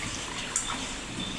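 Kolam rice being rinsed clean in water, a brief close watery swish and splash with no talking.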